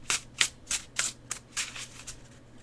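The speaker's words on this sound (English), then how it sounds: "The shuffles on this deck." A linen-finish tarot deck with soft, papery matte cards is shuffled in about eight quick, crisp riffling bursts at a steady rhythm, close and fairly quiet, with faint background hum and no talk.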